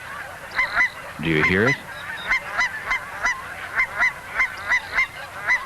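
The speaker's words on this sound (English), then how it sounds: "The call of the cackler is distinctive and is the best way to identify cackling geese." Cackling geese give high-pitched honks, one lower goose call briefly overlapping them, then a regular series of sharp, clipped calls repeating about twice a second; a voice speaks quietly among them.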